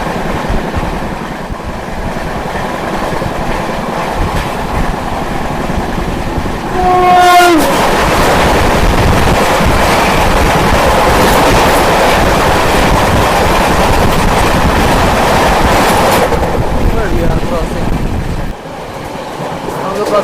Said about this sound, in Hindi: गोवा एक्सप्रेस दो बहनों की जबरदस्त क्रॉसिंग होने जा रही है।